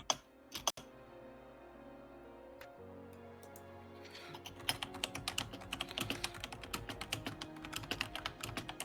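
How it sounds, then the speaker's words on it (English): A noisy computer keyboard clatters with quick, uneven keystrokes, starting with a few sparse clicks and then building into dense, continuous typing, heard close over a faint background hum with no talking. "Your keyboard is so noisy."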